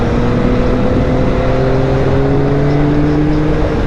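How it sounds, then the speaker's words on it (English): A Yamaha R9 motorcycle accelerating after break-in and tuning, its engine note rising steadily in pitch as it pulls hard, loud and continuous with wind noise throughout. "Wow, this thing really accelerates now."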